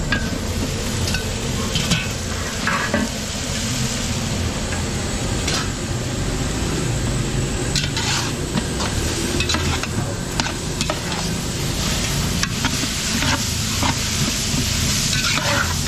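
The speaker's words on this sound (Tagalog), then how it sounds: "So giniling mga kabili, gigisa na natin." Ground meat being sautéed in a large pan for catering, with loud, continuous sizzling and frequent scraping and stirring of a utensil throughout.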